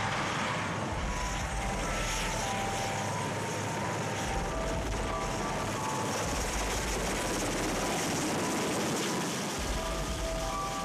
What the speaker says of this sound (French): L'hélicoptère les conduit jusqu'à la ligne d'arrivée.